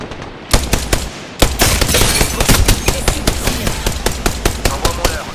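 Gunfire in a French-language shooter game: sharp, rapid shots repeat in a steady burst pattern, loud and close, with a short gap before a denser stretch of firing.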